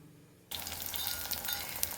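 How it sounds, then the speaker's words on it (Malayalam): Coconut oil sizzles loudly in a pan, starting abruptly after a brief quiet moment, then a steady close-up crackle as eggplant sautés. "വഴുതനങ്ങ ഒന്ന് വഴറ്റിയെടുക്കുകയാണ് ഞാൻ."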